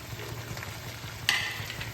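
Cauliflower frying in a pan for a Bengali potato-cauliflower curry as large quartered tomato pieces are added, a low steady sizzle with one brief sharper hiss burst midway.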